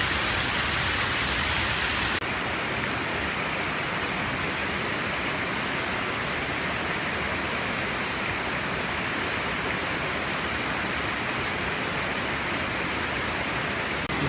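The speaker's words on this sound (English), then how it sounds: "a little side trail, this huge waterfall." A huge waterfall along a side trail on the Three Ridges Loop in Virginia roars as a steady, dense rush of falling water, close and loud throughout with no voices.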